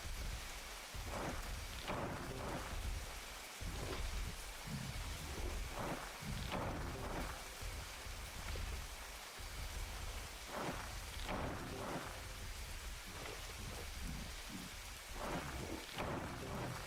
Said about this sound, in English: Nice vibe here when it's raining.